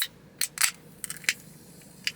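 A dusty Ghost Sour Green Apple energy drink can pops open with a few sharp clicks and a crisp crack of the tab, close and clear with no talk.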